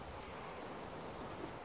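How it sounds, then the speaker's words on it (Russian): Wind blows outside an abandoned former military hospital building in Jüterbog, heard as a brief, soft, steady broadband whoosh with faint rustling and no voices. "Ветер поднялся."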